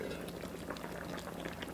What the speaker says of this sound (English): it is boiling and looks great